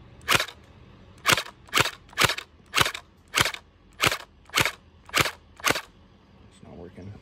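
A gel blaster fires through a chronograph: ten loud, sharp, close shots about half a second apart, followed by a brief quieter rustle at the end.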